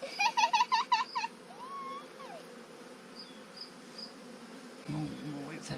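Honey bees buzzing around a hive frame, a low steady hum beneath brief high chirping sounds near the start and a short louder burst toward the end.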